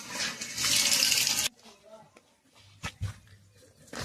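Water gushes hard from a tap in a rural tribal village for about a second and a half, then cuts off abruptly, leaving quiet surroundings with faint scattered sounds.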